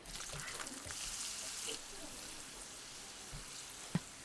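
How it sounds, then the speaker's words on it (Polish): Garlic cloves and sesame seeds fry in vegetable oil in a pan, giving a faint, continuous soft sizzle with a sharp click near the end. "Smaż aż się zarumienią."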